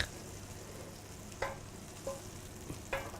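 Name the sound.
butter melting and sizzling in a frying pan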